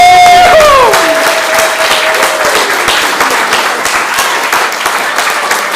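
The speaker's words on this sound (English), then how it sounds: "Can I get a standing ovation for Miranda and Shyla?" Loud, dense standing ovation from a large crowd at a student showcase fills the room, sustained throughout with a few whistles early on and scattered cheers.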